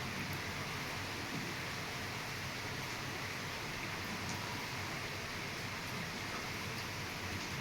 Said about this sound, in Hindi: अच्छी खासी बारिश आ रही है।